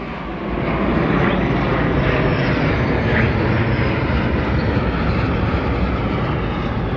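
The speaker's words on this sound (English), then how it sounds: "I love the jets. And they're about to go right over our head." A jet aircraft coming in to land passes low overhead, a loud, steady, broad engine roar that fills the whole stretch without letup.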